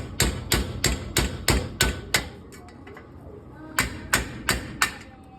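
Hammer strikes on a hub assembly for a 1998 Jeep XJ: a quick run of about seven sharp metallic blows, a short pause, then four more evenly spaced hits, close and loud.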